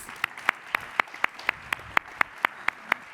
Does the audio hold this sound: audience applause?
yes